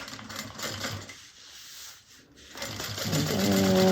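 A sewing machine runs a short back stitch at the top of a bag, a fast rhythmic mechanical clatter that pauses briefly midway and then resumes louder and steadier, close by with no talking.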